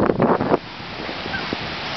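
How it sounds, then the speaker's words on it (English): Windy surf at Coronado Beach on a clear day: a steady wash of breaking waves and wind noise, with a few brief louder gusts or bird calls near the start and no talk. "We are at Coronado Beach."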